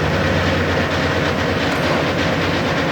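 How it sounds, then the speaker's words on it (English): Running engine of a 1989 GMC Suburban, a dense constant rattling clatter over a low rumble, loud and close throughout. "So you can hear the rattling noise as it's running."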